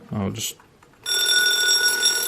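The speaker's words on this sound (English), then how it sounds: "it seems to have a mechanical alarm, but otherwise be an electric clock" After a brief spoken word, the mechanical bell of an analogue electric alarm clock with a wind-up auxiliary alarm begins ringing, a loud continuous metallic rattle close by.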